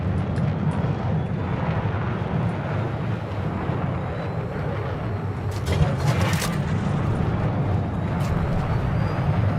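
Bombs falling and bursting across a Battlefield 6 multiplayer battlefield: a steady, dense rumble of distant explosions and aircraft drone, with a brighter, heavier blast cluster swelling near the end.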